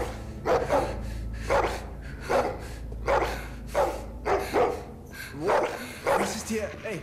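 A dog in The Walking Dead: The Final Season video game barks repeatedly in sharp, evenly spaced bursts, fairly close and loud, with a few whimpering yips near the end.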